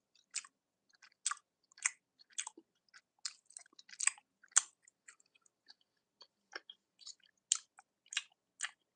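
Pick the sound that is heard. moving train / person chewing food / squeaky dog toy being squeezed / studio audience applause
person chewing food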